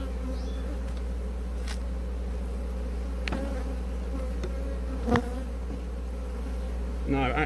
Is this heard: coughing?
no